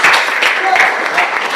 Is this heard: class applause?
yes